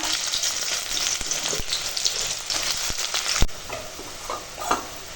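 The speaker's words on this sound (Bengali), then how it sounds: "তেল গরম হয়ে গেছে তেজপাতা ফোড়নে দিলাম এখন পেঁয়াজ দিয়ে ভেজে নেবো" Onions sizzle and crackle steadily in hot oil tempered with bay leaves, with a few sharp pops and the scrape of stirring.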